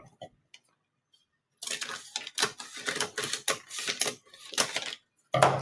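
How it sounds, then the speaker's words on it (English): Scissors cutting across a paper bag: crisp paper cutting, a run of short crunchy snips and rustles after a quiet start, close by, with a brief low sound at the end. "I'm gonna take my scissors and I'm gonna cut across."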